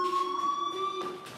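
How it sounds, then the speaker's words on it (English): A school fire alarm in the game Life Is Strange rings as a steady, piercing electronic tone with pulsing overtones, continuous and fairly loud with no voices over it. "Do you hear that fire alarm? That means you should be outside."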